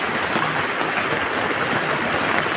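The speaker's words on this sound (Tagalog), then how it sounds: "Grabe talaga ang ulan dito." Heavy rain pours down in a steady, dense hiss of broadband noise that stays constant throughout, with no voices.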